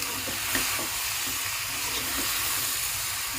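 Curry leaves sizzling and frying in ghee for a ghee chicken fry, with steady crackle and faint stirring scrapes close by, no voices.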